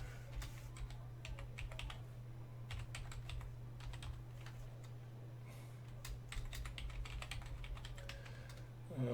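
A password is typed on a computer keyboard in steady, close, light clicking bursts over a constant low electrical hum, with no talking.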